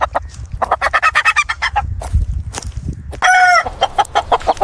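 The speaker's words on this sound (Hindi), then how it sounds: "मुर्गा अपने काम में मसरूफ हो गया और खेत में घूमता रहा।" A rooster in a field clucks in a rapid, rhythmic series of short notes, breaks into a brief crow midway, then resumes clucking, close and clear with no talk.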